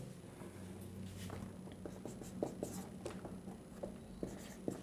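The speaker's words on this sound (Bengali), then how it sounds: "তো ভার্বের যে ডেফিনেশন সেটা আমি ছোট্ট করে লিখে দিচ্ছি" A pen writes a short grammar definition by hand on paper, producing soft, close scratching strokes and light taps in irregular bursts over a faint steady hum, with no talking.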